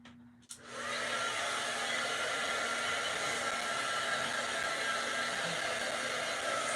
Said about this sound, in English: So give this a dry with my dryer.